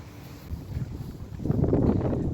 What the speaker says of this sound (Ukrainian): оце йду, а вітер такий прилічний